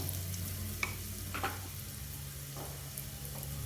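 Asafoetida and curry leaves sizzle in hot oil with garlic in a pan, a close, steady frying hiss with a few faint stirring clicks and no talk.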